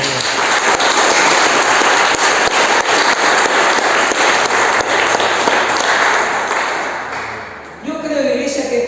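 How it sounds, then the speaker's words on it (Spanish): A church congregation at a worship service applauds loudly and steadily in a dense, sustained roar of clapping that tapers off near the end before a voice comes in. "Fuerte el aplauso."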